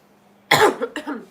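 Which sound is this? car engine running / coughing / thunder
coughing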